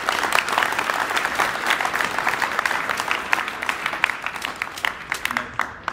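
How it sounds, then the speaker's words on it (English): An audience at a high school awards night applauds student leaders with a crisp, sustained round of clapping from many hands that tapers off toward the end. "how about one more round of applause for them?"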